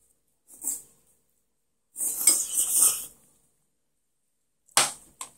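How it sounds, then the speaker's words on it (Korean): Cutlery clinking against a bowl of Korean kongguksu, cold soybean noodle soup with milk ice and young radish kimchi: a brief tap, then a longer scraping clatter, and a final sharp clink, close and fairly quiet. "먹어보겠습니다"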